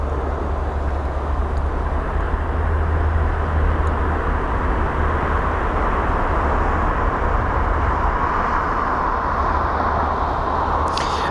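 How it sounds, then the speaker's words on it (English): A British Airways jet passes near London Heathrow airport as a loud, continuous engine roar and rush that holds steady for about eleven seconds, with no voices. "There's the British Airways jet."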